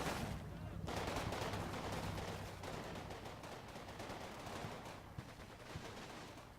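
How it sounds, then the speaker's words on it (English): In the Combat Mission: Battle for Normandy war game, light mortar fire mixes with bursts of rattling gunfire in a dense, continuous, fairly quiet barrage. "Nope, light mortars."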